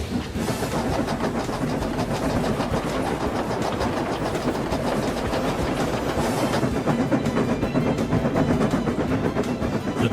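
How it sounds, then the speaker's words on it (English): A train rumbles steadily along the rails, with rapid rhythmic clatter and a dense, loud roar that continues without pause. "The train went faster and faster, too fast for Thomas"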